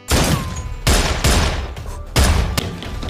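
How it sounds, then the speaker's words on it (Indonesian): A gunfire shootout in an action film: loud, dense bursts of rapid shots rattle in several waves with brief gaps, close and forceful, with no talking. "Zan masih sibuk baku tembak. Frank di sana juga ikut baku tembak dengan Zan."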